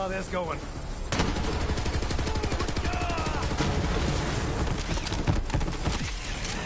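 Rapid, steady SMG fire in a first-person shooter, a continuous loud stream of shots after a brief pause, with a voice talking over the burst.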